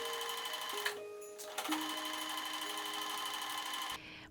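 A sewing machine stitches a fabric and fleece holiday stocking, its steady rapid mechanical whir running continuously and close, with a short pause near the start before it resumes and runs on until it stops at the end.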